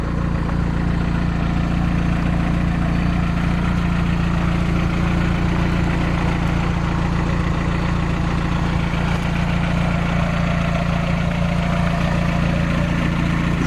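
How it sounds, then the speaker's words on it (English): A Volkswagen Vanagon Westfalia with a MagnaFlow stainless steel muffler idles steadily, giving a continuous low exhaust drone with a strong low hum, loud and close, with no talking. "the exhaust sounds great. It's a MagnaFlow stainless steel muffler."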